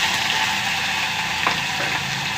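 Onion masala frying in a pan for an eggplant and egg curry, a steady close sizzle with faint stirring scrapes and no talk.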